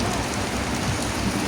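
Steady, unbroken rain falls outside a shop with a dense, even hiss of drops striking surfaces, constant and moderately loud, with no voices.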